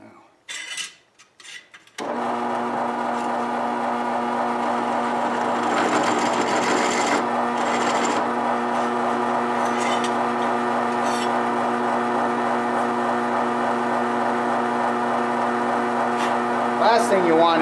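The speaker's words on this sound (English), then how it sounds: "Last thing you want is metal chips in your coffee, so you got to make sure the burrs are gone." Metal being filed to remove burrs for a homemade French press, a steady, dense rasping scrape that starts abruptly after a brief clatter and continues unbroken, close and loud.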